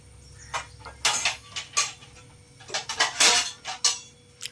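A spoon scraping and clinking against a metal vessel as food is scooped out, a run of close, sharp taps and scrapes in irregular bursts.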